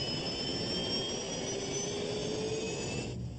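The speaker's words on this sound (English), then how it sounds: "Jet engines contain turbines that make different sounds depending how quickly they're spinning." Boeing 737 jet engines of Air Florida Flight 90, heard from the cockpit: a steady, loud roar with sustained high whining tones that slowly shift in pitch, then drop away abruptly near the end.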